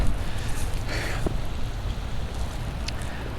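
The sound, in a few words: rain falling outdoors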